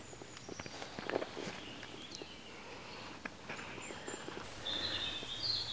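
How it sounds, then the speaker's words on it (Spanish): In a forest, birds chirp faintly in the background while footsteps crunch nearby, and a brighter burst of birdsong comes in near the end. "A lo mejor puedes escuchar los cantos de los pájaros y todo."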